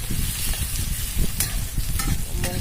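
Peanuts tipped into masala frying in a pan, with a steady loud sizzle and scraping stirring strokes running throughout, close up and with no voices.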